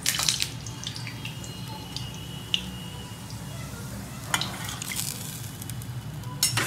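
Dahi vada lentil fritters sizzle steadily in hot oil, a close, continuous frying hiss with occasional sharp pops and clinks of a utensil stirring.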